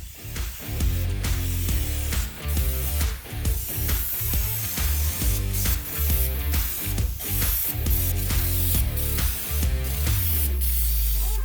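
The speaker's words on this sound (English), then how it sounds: "with that spray gun, it just goes on so fast and so easy" A spray gun applying Herculiner epoxy truck bedliner hisses in rapid bursts over a low mechanical chug, loud and close, with a pulsing rhythm and no talking.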